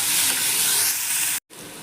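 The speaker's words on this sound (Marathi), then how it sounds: "तर पहा, आपला कांदा इथे भाजत आलेला आहे." Onions fry in a pan while cooking dum aloo, a dense, steady sizzle heard up close and loud, briefly cut off for a moment near the end before resuming.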